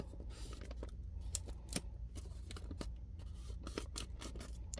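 Scissors trimming paper for a DIY junk journal, a run of quick, close snips and crisp paper rustles, fairly quiet with no talking.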